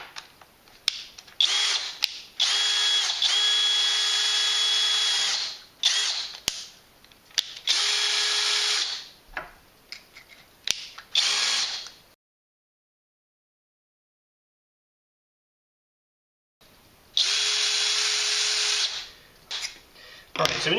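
A SEKGHY 20v cordless drill driver whirs in several bursts, steady high spinning with brief stops and starts, then a long silent gap before one more run, close and clear.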